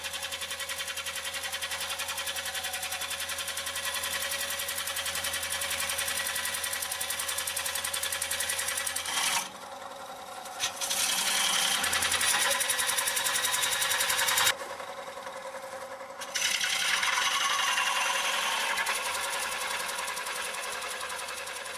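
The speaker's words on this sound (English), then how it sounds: "Proceed to make the cut as before, withdrawing the blade frequently to clear shavings until the bowl is ready to break free." A Woodcut Bowlsaver blade cutting into a bowl turning on a wood lathe, a steady buzzing, whining drone with two short breaks where the blade is withdrawn to clear shavings.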